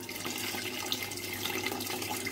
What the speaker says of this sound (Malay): Ok, sekarang kita nak masukkan air asam.